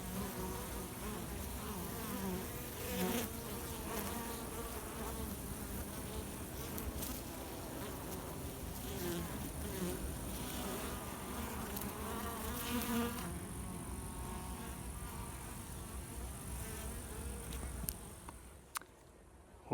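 Honey bees buzz steadily and fairly quietly, a continuous droning hum with individual insects passing close now and then, fading toward the end.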